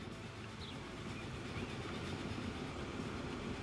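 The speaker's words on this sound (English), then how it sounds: "Oh, this is our freight train." A Virginia and Truckee freight train runs in Transport Fever 2 with a steady, dense rolling rumble and a faint wheel clatter, continuous and fairly close throughout.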